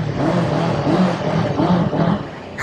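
A Honda CB500X motorcycle engine and exhaust rumble close by, a steady low burble with a few small rises in revs and no talk.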